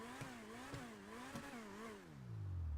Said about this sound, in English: So we're gonna rev the car again.